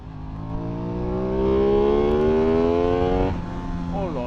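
An Aprilia RS660 sport motorcycle engine revs hard, a rising buzzy wail climbing steadily for a few seconds before easing off, with a voice chattering over it.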